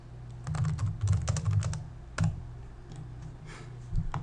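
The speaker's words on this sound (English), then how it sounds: "and then start to type your text" Typing on a computer keyboard, with close, quick clusters of key clicks and a few heavier strokes, then lighter sporadic taps as the burst winds down.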